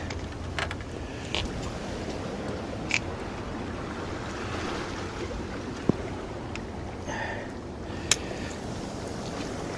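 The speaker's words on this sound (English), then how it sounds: "it's heavy rain" Heavy rain pours outdoors beside the water while bass fishing in Aberdeenshire, a dense steady hiss with scattered sharper splashes and a few brief clicks throughout.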